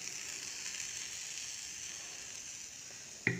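Neer dosa batter of ration wheat flour, grated coconut and onion sizzles steadily in oil on a hot pan, a continuous bright hiss held at even level, ending in a short sharp clatter.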